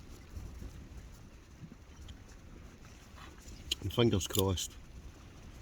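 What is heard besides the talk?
wind outdoors while wild camping at a Scottish hill loch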